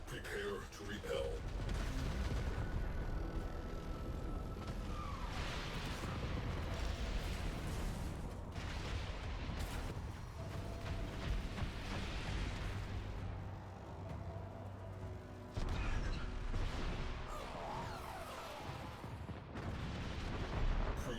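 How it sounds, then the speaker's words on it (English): A cruise ship reactor detonates in the Warframe video game, heard as continuous low rumbling booms and blasts layered with in-game effects and a voice, fairly faint overall. "Cruise ship reactor has detonated."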